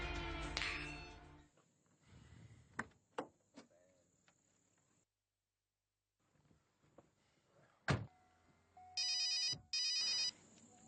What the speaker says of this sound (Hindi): क्या हुआ इंदर, फोन क्यों नहीं उठा रहे थे?